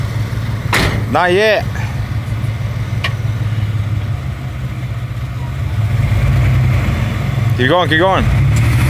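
A stuck pickup truck's engine drones steadily under nearby voices giving directions, with a couple of brief louder pushes as the driver tries to work the vehicle free.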